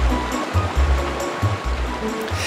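River water rushes and churns steadily during a canoe ride in Zelda: Twilight Princess, a full wash of flowing sound with low rumbling pulses beneath it.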